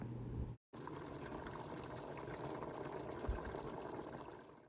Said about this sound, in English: I'm going in with 6 cups of water total.